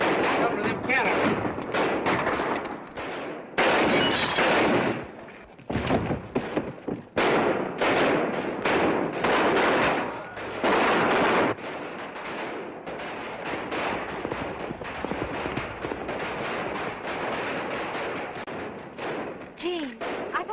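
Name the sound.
gunshots in western film shootout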